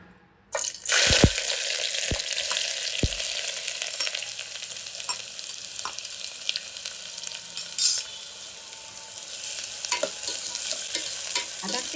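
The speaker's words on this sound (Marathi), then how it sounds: "आता हे या त्या तेलामध्ये आपण चांगले फ्राय करून घेऊया" Onions frying in oil for chicken biryani: a loud, constant hiss of sizzling that starts abruptly after a few heavy thuds as the onions drop in, with occasional scrapes of stirring throughout.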